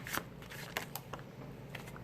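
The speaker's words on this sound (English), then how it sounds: "Just calling out signs while I shuffle" Tarot cards being shuffled by hand during a reading, a soft papery riffle with a few sharper flicks over faint background hiss, fairly close and quiet.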